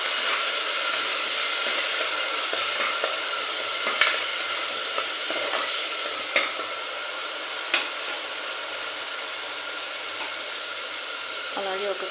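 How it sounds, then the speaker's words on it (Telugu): Onion paste frying in a pan until brown, a steady moderate sizzle with the spoon scraping and tapping at intervals, a few distinct knocks standing out. "దీన్ని కొంచెం బ్రౌన్ కలర్ వచ్చేదాకా ఇలా ఫ్రై చేసుకుందాం."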